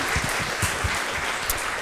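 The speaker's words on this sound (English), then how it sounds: "Thunderous applause." A small audience at a lightning talk gives brief, scattered applause, with a few distinct claps standing out over a light background of hands.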